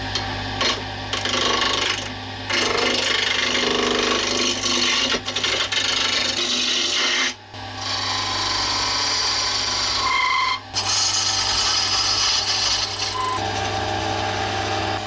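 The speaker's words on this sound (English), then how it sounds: "I've got the first bit slightly knobbly with a knot in it set up on the lathe." A slightly knobbly length of wood with a knot in it spins on a lathe while a tool rasps and rubs against it, giving a steady, loud scraping drone with two brief pauses, alone with no talk.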